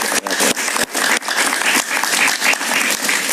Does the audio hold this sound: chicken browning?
no